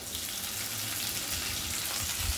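Chopped green chillies and ginger paste fry in a mix of ghee and oil for a vegetable dal, making a continuous close, loud sizzle that stays even throughout without talk.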